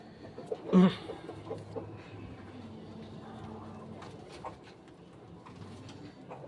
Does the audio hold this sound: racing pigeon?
yes